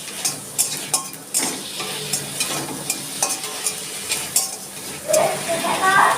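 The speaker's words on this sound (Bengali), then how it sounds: "আমি প্রথমে অল্প কটা জিরে শুকনো খোলায় ভেজে নিচ্ছি।" A few cumin seeds dry-roasting in a hot wok, with a light crackle under repeated stirring and scraping strokes, and small clinks of the utensil against the pan, close by.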